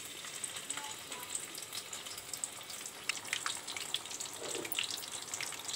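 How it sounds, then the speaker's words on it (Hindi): Arbi (taro) leaf bhajiya frying in hot oil in a kadhai, a soft steady sizzle with faint crackles and bubbling, quiet and close, with no talk. "मैंने कढ़ाई में तेल डाल के रखा है उसको तलने के लिए"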